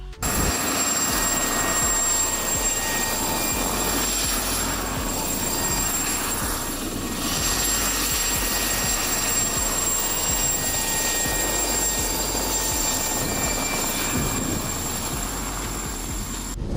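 A turbine helicopter in flight gives a loud, steady engine and rotor drone with a broad whooshing roar that holds nearly constant for the whole stretch. No voices are heard.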